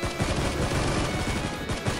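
Gunfire in the battle royale mobile game Knives Out, a dense burst of shots heard under a loud, continuous wash of in-game noise with no clear breaks between rounds.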